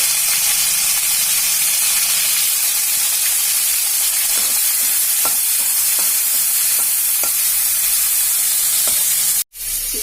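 Green chilies and panch phoron sizzle in hot mustard oil, a steady frying hiss with scattered pops and crackles and occasional stirring, close and loud, briefly cut near the end.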